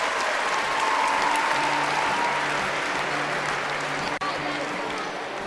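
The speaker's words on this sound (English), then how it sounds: "Applause from teammates on the sidelines" Teammates on the sidelines of a women's all-around artistic gymnastics competition at the 2019 Universiade applaud loudly and continuously, a dense wash of clapping and crowd noise that tapers slightly near the end.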